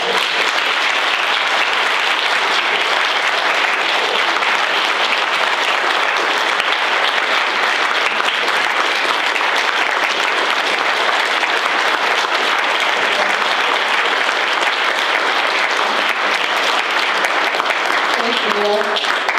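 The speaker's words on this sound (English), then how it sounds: "Can we please give Neil and Liz a round of applause" A crowd at a small live event gives sustained, loud applause, a continuous wash of clapping that carries on for nearly twenty seconds without letting up.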